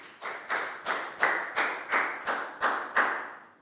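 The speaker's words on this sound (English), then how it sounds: "High five and a big round of applause for Chu" A Year 4 class claps for a pupil during an English lesson, a slow, rhythmic run of about nine loud, evenly spaced group claps, close and clear, with no talking over them.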